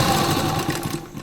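A sewing machine runs steadily while stitching a turned collar on an A-line kurta, a continuous close mechanical whir that eases slightly near the end, with no talk.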